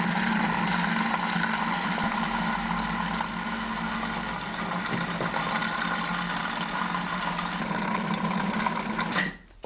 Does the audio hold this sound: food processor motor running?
yes